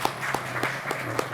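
Brief, moderate audience applause at a Korean security policy seminar, with the claps running together into an even patter and a low hum beneath.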